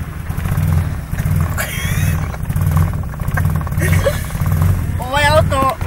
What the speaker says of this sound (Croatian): Radi kao kosilica. Ne može više od 2500 obrtaja, evo.